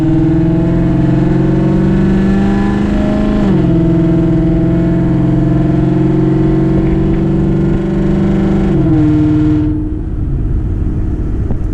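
A Ford Mustang S550 with a very loud exhaust pulls away in sport mode, its deep engine roar holding steady and rising through two gear changes before easing off near the end, heard from inside the car.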